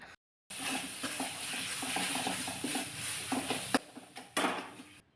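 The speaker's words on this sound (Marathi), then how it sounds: "एखादा मिनिटभर हे चांगलं परतून घ्यायचं आहे" Potato curry with onion-garlic masala and garam masala being stir-fried in a pan, a continuous sizzle broken by scraping stirs and occasional knocks of the spatula, with a brief silent gap at the start.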